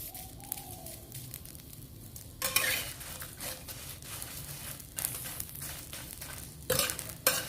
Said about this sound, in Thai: เราก็จะนำพริกจินดาแห้งมาคั่วนะคะ